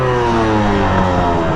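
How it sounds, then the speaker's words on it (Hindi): A Yamaha ZR 125 scooter engine revs high and loud at close range. The whine is sustained and rises slightly as the throttle is held open. "देखिए ये कितना तक रेव होता है, देखिए साला 8000 तक और भी जाएगा"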